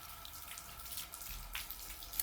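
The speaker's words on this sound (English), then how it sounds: "now I'm going to rinse my hands" Tap water runs steadily into a sink while hands are rinsed, a soft, fairly quiet hiss with small splashy changes, no talk over it.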